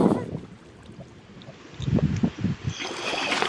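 Flowing water in Minecraft Java Edition, a soft continuous rushing wash that swells louder in the second half, with a player's voice talking over it.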